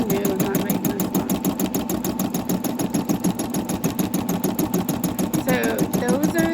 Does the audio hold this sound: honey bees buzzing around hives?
no